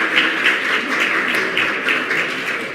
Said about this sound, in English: Let's just give another big round of applause to all of our finalists